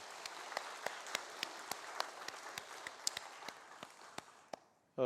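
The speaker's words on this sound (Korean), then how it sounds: "또 오늘 찬양해 준 우리 찬양대를 위해서 다시 한번 박수하도록 하겠습니다" A church congregation claps together at a Sunday service for the children's choir, a steady dense applause with sharper individual claps standing out, filling the room for about five seconds before stopping abruptly.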